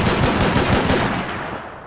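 Rapid gunfire from firearms in the Mount & Blade: Warband mod The Parabellum, fired in an empty town center: a dense, loud string of shots that runs without a break and fades a little toward the end.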